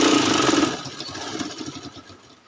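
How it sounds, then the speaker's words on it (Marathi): A sewing machine stitches a quilt border made from old saris. The motor whirs loudly at first, then runs on in a softer, rapid mechanical chatter that gradually fades, with no talking. "हे आपण तिसरी शिलाई मारत आहोत"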